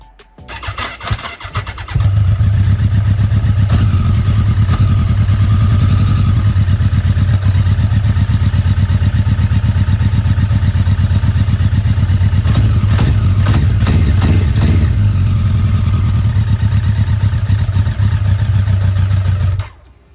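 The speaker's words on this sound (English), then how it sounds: "It started though, it's dying and there's a check engine light on." A Kawasaki ZX14R motorcycle undergoing a rebuild cranks and fires up, then settles into a loud, steady, rumbling run close to the microphone with a slightly uneven idle, no talking over it.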